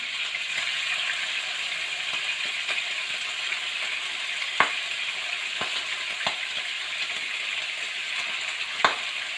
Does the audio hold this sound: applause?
no